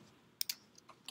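A few quick keystrokes on a computer keyboard as a password is entered, with two sharp close clicks followed by lighter taps in a brief, quiet burst.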